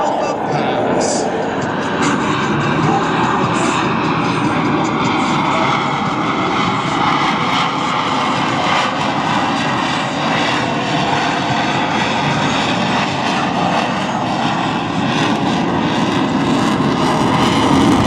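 Blue Angels F/A-18 Super Hornet jets fly a slow high-alpha section pass at the 2024 Cleveland National Airshow, a loud, sustained jet engine roar that holds steady throughout with no break.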